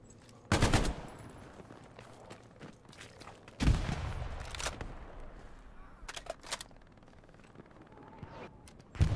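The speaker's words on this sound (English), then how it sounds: "I've got the Bren gun" Bren light machine gun fire in Hell Let Loose, a World War II shooter set at the bridge at Driel: several short loud bursts spaced over the clip, with distant shots and battlefield rumble between them.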